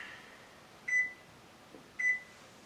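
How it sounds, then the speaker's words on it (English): Two short electronic beeps about a second apart, clear against quiet room tone, as a kitchen timer is set for 5 minutes. "Set the timer for 5 minutes."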